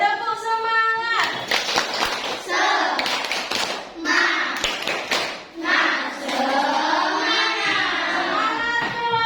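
A school class does a rhythmic spirit clap, with patterned bursts of handclaps and tapping mixed with children's voices chanting along, close and fairly loud.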